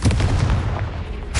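A Confringo blasting spell fires in Hogwarts Legacy, a loud booming burst with a rumbling low roar that carries through the short moment without a break.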